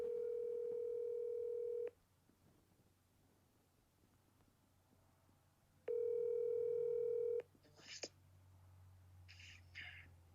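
Two steady telephone dial tones sound while a call is being placed, each lasting a second or two with quiet gaps between, followed by a few short faint electronic chirps.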